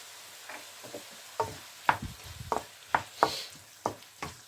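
Frozen garlic and ginger paste dropped into a hot pan, heard as a series of sharp, separate sizzling bursts and scraping stirs against a quiet background.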